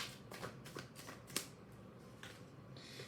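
Tarot cards are shuffled and drawn in a few quick papery riffles and snaps, with one sharper card flick near the middle, close and fairly quiet with no talking.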